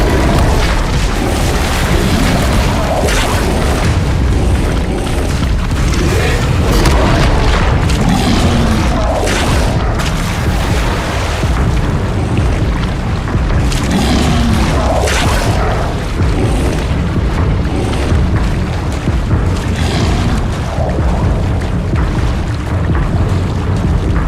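The Incendio fire spell in the Hogwarts Legacy video game, a loud, continuous roaring blast of flame and rumbling booms that holds steady for a long stretch.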